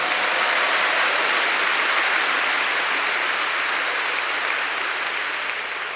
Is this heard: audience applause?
yes